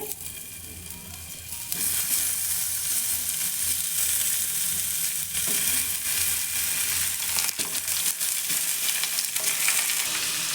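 Tomatoes being set into hot oil in a pan for a tomato-onion chutney, a steady close hiss of frying that jumps louder after about two seconds and carries on evenly with a few small pops.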